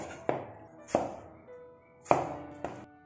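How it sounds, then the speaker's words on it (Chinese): Tomatoes being cut into large chunks with a knife on a cutting board, four sharp chops spaced unevenly and heard close and alone. "番茄切大块"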